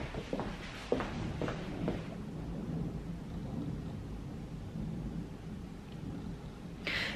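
Steady rain falls over a garden during a thunderstorm, a continuous hiss with a few rumbling thunder bursts early on, heard alone without talk.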